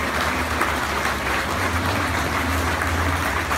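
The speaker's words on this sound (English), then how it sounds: "Keep those applause going" Sustained applause from a crowd at a speedway memorial for a rider's ashes committal at Coventry's new track, dense and steady throughout with a low engine-like hum beneath.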